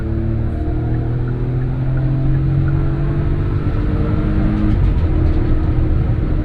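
A Hyundai Venue's exhaust while driving, a steady low droning engine tone with road rumble running continuously throughout, fairly loud and close.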